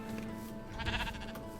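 Sheep bleating in the Minecraft video game, a wavering bleat rising over a steady background of game ambience, fairly close and clear through the short span.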